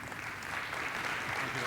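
An audience at an international controlled-environment agriculture conference applauds a speaker, giving a steady, dense patter of clapping at moderate volume throughout.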